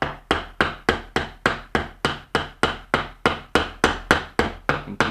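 Quick, steady taps of a wooden toy hammer on a nail in a children's wooden tool kit, about fifteen crisp knocks in a fast, regular rhythm, close and alone.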